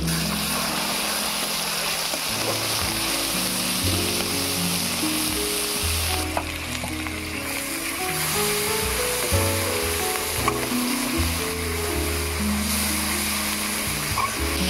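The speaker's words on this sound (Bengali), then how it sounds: "লঙ্কা হলুদটা এই তেলের মধ্যে একটু নেড়ে নিলাম" Chili and turmeric powder stirred into hot oil in a pan for potol korma, giving a steady, continuous sizzling hiss throughout, laid under background music with no talking.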